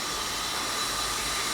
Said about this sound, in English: so that's steam coming from the boiler